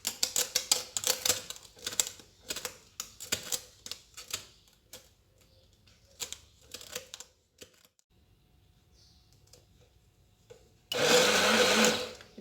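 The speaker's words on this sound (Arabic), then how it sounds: "ممكن تستعملوا خلاط كهربائي" An electric blender mixes a cocoa dessert batter with oil, switching on near the end with a loud, close, steady whir after a stretch of scattered light clicks and taps.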